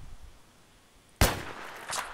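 A single sharp, loud gunshot cracks in the Battlefield 3 video game after a quiet stretch, followed by a brief reverberating tail and a smaller burst of noise shortly after.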